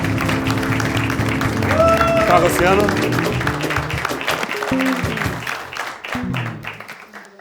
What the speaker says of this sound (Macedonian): Аплауз за Пепермин, луѓе, аплауз за Пепермин.